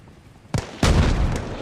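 Two sharp, close blasts in a video game firefight: a short bang followed a moment later by a bigger grenade explosion that booms and rumbles off briefly.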